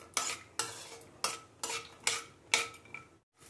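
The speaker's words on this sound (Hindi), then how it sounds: "इसे लो फ्लेम पर 1-2 मिनट के लिए भूनेंगे।" Almonds roasting dry in a pan on a low flame, stirred with a spatula in six or seven regular scraping strokes, each a short rattling rasp. Close and fairly quiet, no voices.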